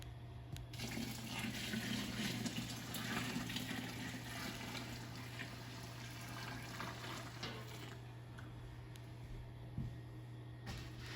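Steady splashing of water pouring into thick homebrew beer mash, continuous and fairly close, with a low constant hum beneath and no talking.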